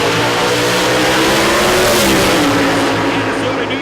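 A Chevrolet drag race car runs loud and steady down the strip toward the top end, its engine roar filling the scene with a rising sweep, crowd and track ambience mixed underneath.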